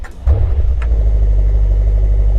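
Brabus-tuned car with a new aftermarket exhaust starting up: a brief starter whir, then the engine catches with a loud, deep rumble that settles into a steady, throaty idle close by.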